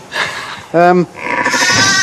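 A Suffolk ram gives one loud, harmonic bleat lasting about a quarter second, set between stretches of talking and electronic tones.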